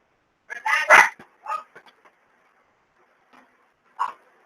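Dogs bark in a few sharp, close bursts, a rapid cluster first and then one lone bark after a pause, with no talk alongside.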